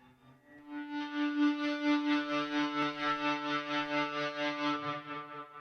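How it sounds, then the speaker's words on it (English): A sustained, singing electric guitar note from an EBow swells in gently and holds steady with a smooth, bowed quality and a slow pulsing waver, with no pick attack. "it's meant to sound like you're using a bow, like a violin bow on the string"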